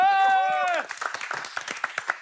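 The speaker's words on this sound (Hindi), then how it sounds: "एक बार मेरी तरफ से भाई मिथ पैट के लिए ताली बजा दो।" Audience clapping at a live reality-show grand finale, scattered claps and crowd noise following a sustained sung or shouted voice at the start, fairly close with uneven rhythm.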